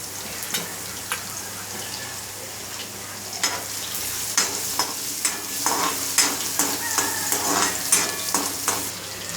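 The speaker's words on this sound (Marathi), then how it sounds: "तेल चांगलं तापलं आहे आणि तेल तापल्यानंतर ना आपण त्यात लसूण टाकायची" Crushed garlic frying in hot oil for a Marathi brinjal and potato dish, a steady close sizzle with scattered spoon-stirring clicks that grow busier and louder toward the end, no talk.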